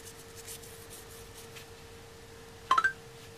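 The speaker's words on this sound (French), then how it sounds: "j'ai oublié de mettre mon téléphone en silencieux" A mobile phone notification chimes once near the end, a quick run of three or four bright, rising beeps over a quiet room.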